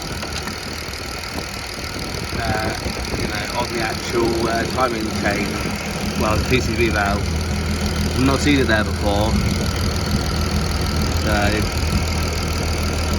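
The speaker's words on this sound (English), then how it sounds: "hopefully you can hear me over the engine noise" Turbocharged VR6 engine of a modified MK5 Golf R32 idling with the oil filler cap removed, a steady mid-pitched hum and rumble running throughout underneath someone talking close by.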